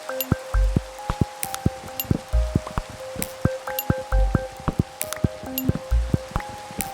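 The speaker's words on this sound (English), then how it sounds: "And once again, it's raining." Rain in the Minecraft video game, heard as a steady patter of drips and splashes with irregular louder drops, close and alone without talk.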